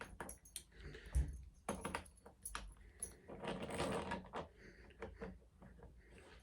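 Keys for a working lock clink and jangle in close handling, a set of three metal keys rattling in irregular bursts of small metallic taps and scrapes, with no talking.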